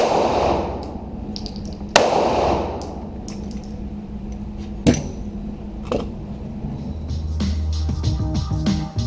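Gunshots ringing off steel targets during a target acquisition shooting drill, several loud sharp reports and metallic clangs spaced irregularly, with a denser clatter of hits toward the end.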